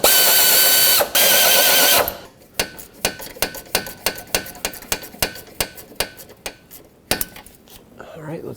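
Ratchet tightening lug nuts on a 2007-2010 Chrysler Sebring during an alternator replacement, a loud buzzing whir at first, then a close run of sharp, evenly spaced metallic clicks that slow and stop.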